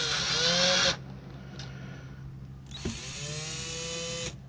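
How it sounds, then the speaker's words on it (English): An electric drill bores a hole, with two close bursts of high whining motor speed separated by a quieter pause with a small click. "making sure my drill is straight up and down and the bit's right in the center"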